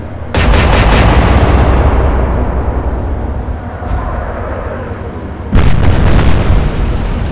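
Naval gunfire in the Atlantic Fleet video game during a battleship engagement: a sharp salvo of booming shots rolls into a long decaying rumble, a faint pop follows, then a second loud salvo.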